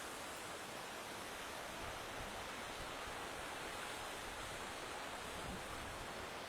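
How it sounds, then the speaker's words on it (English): The River Findhorn rushes in a continuous broadband wash of flowing water, steady and fairly close, with no voices over it. "Listen to the river singing to us."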